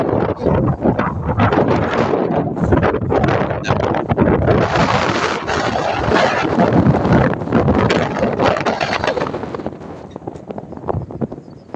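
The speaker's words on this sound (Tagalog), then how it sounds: "Medyo malakas yung hangin dito." Strong wind on Mt Eden, New Zealand roars and buffets the microphone nonstop, a loud rumbling rush that barely lets up.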